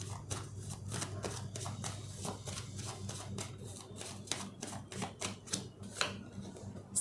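Tarot cards being shuffled and drawn by hand, a rapid series of crisp papery flicks and riffles close by, steady and alone with no talking.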